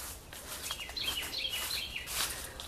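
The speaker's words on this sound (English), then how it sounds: "Birds all back here are singing" Birds sing faintly in Georgia woods, scattered high chirps and short song phrases over a quiet outdoor background.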